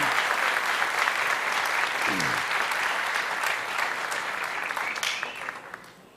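Congregation applauding during a church celebration service, dense sustained clapping with some cheering voices that gradually thins and fades toward the end.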